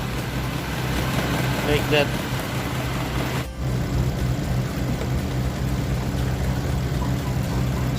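A Toyota Camry engine idles with heavy vibration and the air conditioning running, a steady low rumble that holds throughout, briefly dipping once, while someone talks over it.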